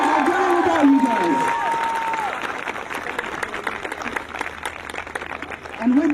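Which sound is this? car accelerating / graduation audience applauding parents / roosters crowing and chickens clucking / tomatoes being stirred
graduation audience applauding parents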